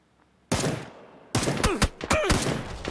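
Gunfire in the video game PUBG comes as loud, sharp bursts of several rapid shots, with a short silent gap between volleys and a quick run of cracks at the end.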